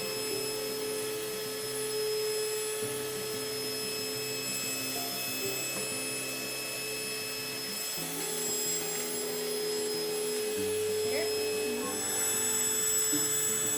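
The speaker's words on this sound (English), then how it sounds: "I am grinding beans because it says to do something other than your berries first to clean out the area and make sure there's no debris." A NutriMill Classic grain mill grinds beans to clean out its chamber, giving a steady, high-pitched motor whine with a gritty grinding texture that shifts slightly in pitch.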